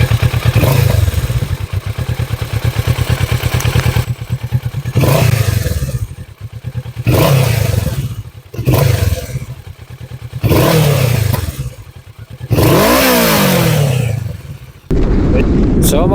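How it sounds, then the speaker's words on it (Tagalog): Kawasaki Z650RS motorcycle exhaust blipped repeatedly up close, with about six loud throaty revs rising and falling between brief idling lulls. "So yan po yung magiging actual exhaust sound niya"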